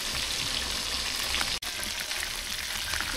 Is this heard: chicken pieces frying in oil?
yes